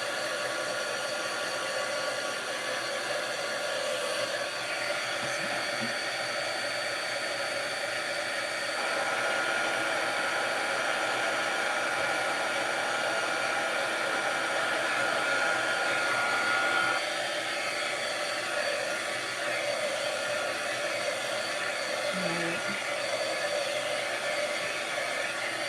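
Heat tool blowing steadily to darken a muffin-tin craft piece, a continuous airy whir at moderate level that holds for the whole stretch with only slight shifts in pitch.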